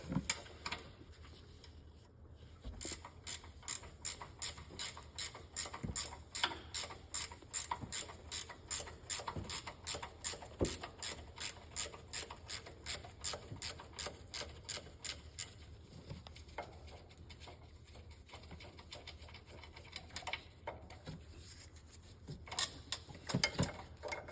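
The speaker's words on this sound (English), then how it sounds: "And on the top one, you'll have to use a wrench." Repeated ratcheting wrench clicks loosening the upper strut line fitting on a 2024 Toyota Tundra during a leveling kit install, a steady close run of sharp ticks with brief pauses across the stretch.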